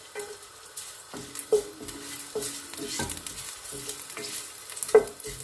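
Ginger (luya) frying in oil in a pan for chicken arroz caldo, a steady close sizzle broken by several sharp scrapes and clinks of a utensil stirring against the pan.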